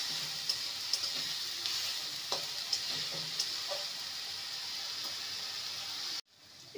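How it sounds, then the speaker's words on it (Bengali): Chopped tomatoes with salt sauté in a pan, a close, even sizzle with periodic sharp ticks and scrapes from stirring, stopping abruptly near the end. "ভালো করে কষিয়ে নেব।"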